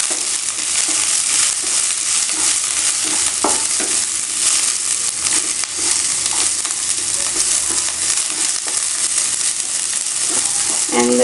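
Cabbage fries in a hot pan for kothu roti, a loud steady sizzle with scraping and tossing clatters as the wilting shreds are stirred and turned, close and continuous.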